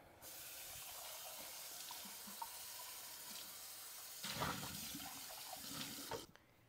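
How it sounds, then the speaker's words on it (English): Tap water running into a measuring cup as it is rinsed, a steady close hiss of flowing water with a louder splashing swell near the end before it cuts off. "rinse out your measuring cup"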